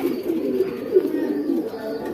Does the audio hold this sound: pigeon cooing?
yes